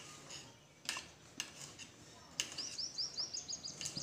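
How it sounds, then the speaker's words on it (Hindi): Knife chopping garlic cloves finely on a board for a spicy ridge gourd dish, a few sharp separate taps followed by a quicker run of light chops, close and fairly quiet. "ये हम बारीक लहसुन की कलियाँ काट ले रहे हैं ऐसे"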